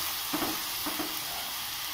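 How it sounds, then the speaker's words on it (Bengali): Grated coconut frying in a pan for a chalta (elephant apple) chutney gives a steady soft sizzle with a couple of brief stirring scrapes, close by and fairly quiet. "এবার এগুলিকে আমি ভেজে নেব কিছুক্ষণ সময় নিয়ে।"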